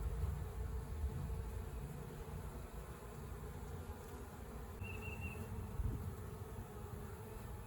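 Dense, continuous buzzing of many honey bees around a hive box, close and fairly steady, with no talking.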